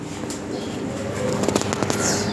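Black pouter pigeons, show-quality birds, coo softly in a steady murmur with bursts of wing flapping and rustling toward the end, set against a busy, noisy background.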